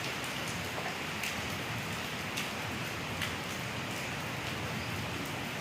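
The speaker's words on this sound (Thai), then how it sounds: "ช้านี้ฝนตกค่ะทุกคน" Morning rain falls in a steady, faint patter on surfaces outdoors, with occasional louder drips and ticks standing out above the continuous hiss.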